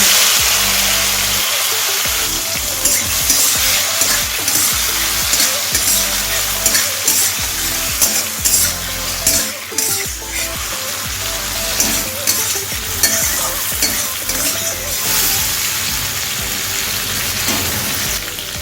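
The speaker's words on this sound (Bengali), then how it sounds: "তেল ভালো মতো গরম হয়ে গেলে এখানে আমি নুন হলুদ মাখানো চিংড়ি মাছ দিয়ে দিচ্ছি" Prawns coated in salt and turmeric fry in hot mustard oil in a wok, giving a loud, steady sizzle with continual crackling and spatter for the whole stretch, with no voices over it.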